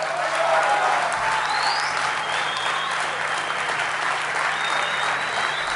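Recorded crowd applause, dense and steady, sustained at an even level throughout with no pauses.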